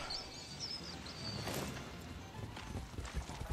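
Horse hooves clip-clop in Far Cry 6 as a quiet, uneven patter under game ambience, with faint birdsong chirps drifting in the background.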